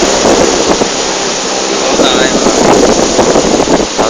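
Loud, blustery wind roars across the microphone continuously, a dense rushing noise with faint voices under it.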